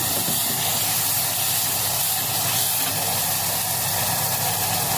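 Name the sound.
vinegar poured into hot roasted food, sizzling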